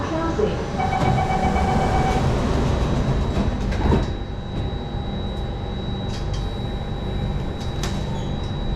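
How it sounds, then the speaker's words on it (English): A Singapore MRT train's doors slide shut at Telok Blangah station, with a steady chime-like warning tone and a clunk of the doors closing amid the hum of the carriage. "Doors are closing."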